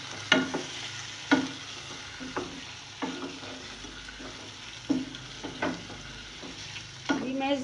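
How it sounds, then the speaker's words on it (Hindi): Beef with whole spices and crushed coriander is mixed in a pot, with spaced scraping strokes of a spoon against metal every second or so over a faint background, close and fairly quiet. "और अब ये तमाम चीज़ें डालकर मैं मिक्स कर दूँगी"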